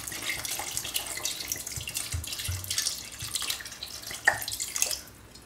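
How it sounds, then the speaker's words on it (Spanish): Wine poured into a pan of squid simmering for calamares en su tinta, a steady splashing, bubbling liquid sound with a brief louder splash near the end. "Y ahora le echamos el vino,"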